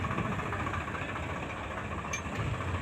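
A 2013-model tractor engine idles with a steady, low rumbling drone and faint knocking vibration, constant at moderate distance with no talking.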